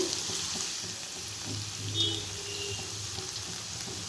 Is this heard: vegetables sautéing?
yes